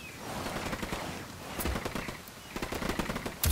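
Bursts of rifle fire crackle through a firefight in Ghost Recon Wildlands, a steady stream of shots at moderate distance with some louder nearby cracks toward the end.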